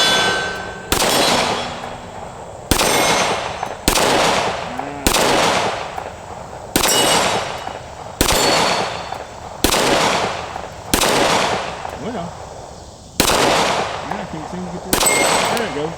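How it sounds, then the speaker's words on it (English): A Taurus G3C compact pistol fires a magazine at an outdoor range: about a dozen sharp, loud gunshots at slow, uneven intervals, each followed by a ringing decay. "We'll shoot this last magazine over here."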